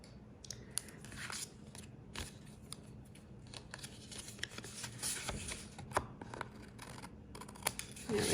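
Scissors snip and trim paper for a handmade birthday card banner, giving a series of quiet, close crisp cuts and rustles at an uneven pace with no talking.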